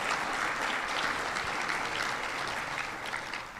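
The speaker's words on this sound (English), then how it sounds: "Let's give them a round of applause for making today happen." Dense, steady applause from a conference audience at a regional sustainability summit fills the space, many hands clapping together at a constant loud level without a break and tapering only slightly near the end.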